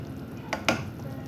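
Lamb meat cooking in a pot, a low bubbling simmer broken by two quick scrapes of a spoon against the pot, close by and brief.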